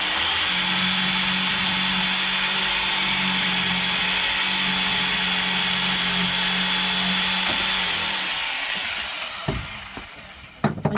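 A jigsaw cutting during boat repair work, a loud, steady buzzing drone up close that runs unbroken for several seconds and then stops, followed by a few light knocks, with no talking.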